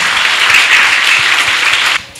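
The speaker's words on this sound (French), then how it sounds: "Sous vos applaudissements, s'il vous plaît." Audience applause welcomes a teacher at an International Teachers' Day event. Dense, steady clapping runs for about two seconds and then cuts off abruptly.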